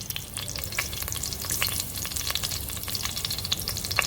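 Chilli frying in coconut oil crackles and sizzles steadily, close up, with sharp pops and spatters scattered over a constant hiss and no talk.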